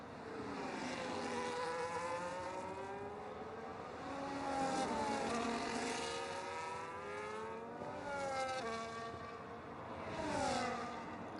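Can-Am race cars in a racing video game at a Netherlands sprint race, their engines whining close and loud. Pitch rises and falls through gear changes, several cars overlap, and the roar goes on with no break.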